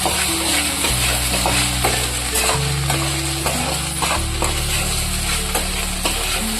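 Okra with fried potato and salt, a fasting-style dish, is sautéed in a pan: close scraping and stirring strokes over a constant sizzle, with background music playing underneath.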